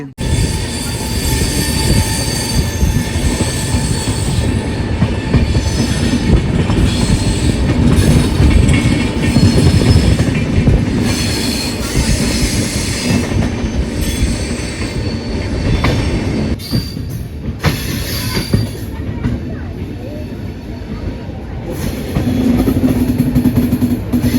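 A train on the Mumbai Central to Chandigarh route rumbles steadily along the rails, loud and close, with rhythmic clacking and occasional wheel squeal throughout.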